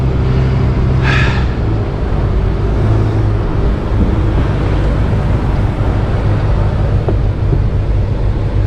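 A semi truck pulls out from underneath a trailer, its loud, steady diesel engine rumble droning close up throughout with a brief hiss of air near the start.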